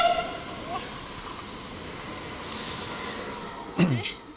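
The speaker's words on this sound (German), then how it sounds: "das war noch ein leiser Zug" A train passes on the Middle Rhine railway through the Rhine valley, a steady rolling rumble under faint background speech, ending with a brief sharper clatter.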